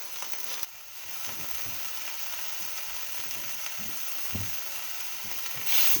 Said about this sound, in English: Ooh, it's sizzling, sounding good.